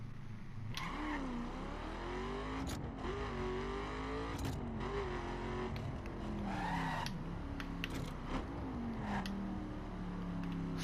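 A stock 2011 Ford Mustang GT with a 5-liter engine accelerating from 0 to 60 in the driving game The Crew, its engine revving up and shifting through gears with brief tire squeals.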